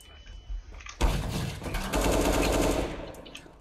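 Counter-Strike: Global Offensive gunfire during a ranked match, a sudden loud burst of rapid automatic shots that keeps rattling steadily for a couple of seconds after a quieter opening.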